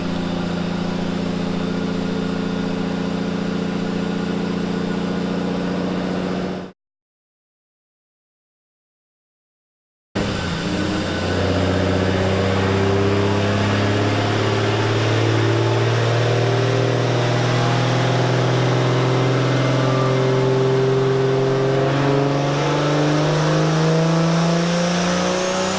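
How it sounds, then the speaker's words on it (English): A Datsun 280Z with a swapped 1JZ VVTi engine running E85 on a dyno, steady loud engine drone through the gears with rising revs, broken by a few seconds of silence midway. "now they're just, driving the car normally to make sure that it's all strapped down okay"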